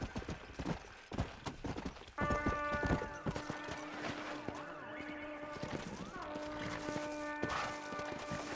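Horse hooves walking in the video game Red Dead Redemption, a steady clip-clop of hoofbeats close by, mixed with bright tonal game music and occasional talk.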